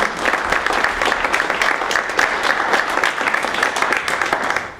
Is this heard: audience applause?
yes